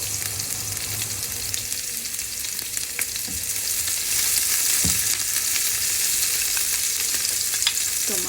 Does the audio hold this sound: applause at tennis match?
no